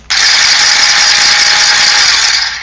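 A loud, buzzing paintball hopper motor, a Dye Rotor running empty, whirs nonstop at a steady pitch for a couple of seconds, then cuts off abruptly.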